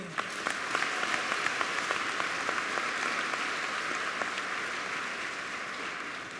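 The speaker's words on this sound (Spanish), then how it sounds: "Dale el aplauso al Rey." A church congregation breaks into applause, dense clapping that holds steady for several seconds, sharp individual claps standing out near the start, loud and filling the room.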